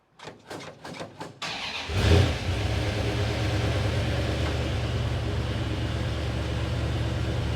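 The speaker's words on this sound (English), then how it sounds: "you can hear that it's got a fast idle" A cold car engine cranks with a few quick clicks and starter bursts, then catches and settles into a steady, raised fast idle that holds loud and even until the end.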